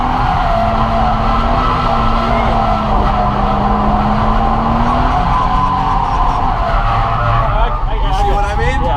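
Nissan 350Z drifting on a track, its engine droning loud and close with a rising, wavering tone, ending in a burst of tyre squeal and skid noise.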